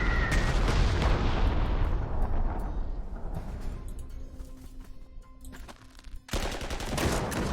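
Bombs fall on a city in the Panzer Corps video game, a dense, loud rumbling barrage of blasts and crackling fire that fades into a quieter stretch before another burst of impacts near the end.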